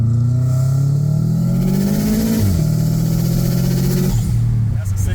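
A Subaru WRX with an automatic transmission accelerates hard, its engine note rising steadily and loud from inside the car, then dipping at a shift and climbing again.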